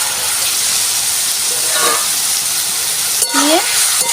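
Potatoes fry in hot oil, giving a loud, steady close-up sizzle and hiss, with a brief clatter and a short voice-like tone near the end.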